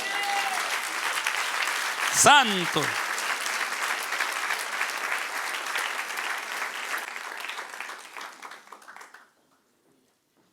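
A church congregation breaks into sustained, dense applause that carries on steadily, while a voice shouts over it briefly. The clapping then fades and stops, leaving silence.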